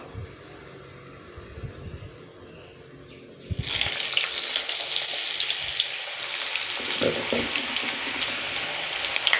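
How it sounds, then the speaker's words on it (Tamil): Mushroom kebabs drop into hot oil and fry, breaking into a loud, steady sizzle and bubbling that starts abruptly partway through and continues to the end, close by and without talk. "ஆயில் சூடு ஏற்றினதும் இதை நம்ம ஒன்று ஒன்றா போட்டு எடுக்கலாம்."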